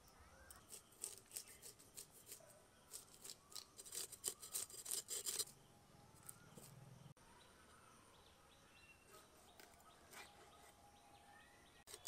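A snakehead (shol) fish is cut and scraped with a blade in bursts of sharp, close scraping and clicking strokes, then things go nearly silent.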